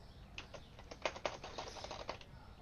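A computer keyboard clatters with a quick, uneven run of close key presses. Faint room tone sits underneath and nobody speaks.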